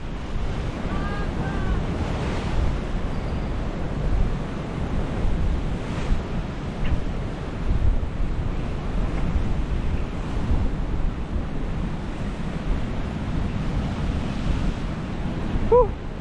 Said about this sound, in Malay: Jaga ombak.